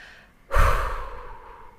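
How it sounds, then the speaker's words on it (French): One slow, audible breath drawn in and let out close to the microphone, a soft airy sigh that swells suddenly and fades gently, with no other sound. "On inspire, on expire"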